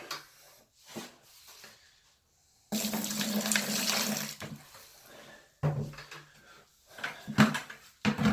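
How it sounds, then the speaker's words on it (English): Water pours from a tap in bursts into thinset mortar mix during a bathroom remodel, splashing loudly between short pauses and a few knocks of handling, with no speech. "So clearly, you need to add some more water."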